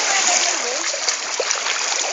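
A person jumps into water at a sixth birthday celebration in Antipolo, making a loud, close, rushing splash and churning water, with voices faintly mixed in.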